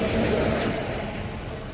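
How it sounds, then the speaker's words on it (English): A service truck rolls past at close range, a steady broadband engine and tyre rumble that swells early and then fades slowly away, with no talking over it. "We'll wait for this service truck to get by."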